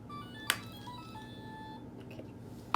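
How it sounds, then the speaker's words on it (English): A toy telephone plays a string of electronic tones and beeps, with sustained pitched notes stepping between pitches and a few sharp clicks from button presses, heard fairly close with no talking. "Here's my toy telephone."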